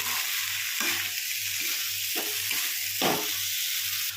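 Bihari-style aloo chana soybean curry of potatoes, chickpeas and soybean chunks fries in a pan with a steady loud sizzle, broken by a few soft stirring scrapes.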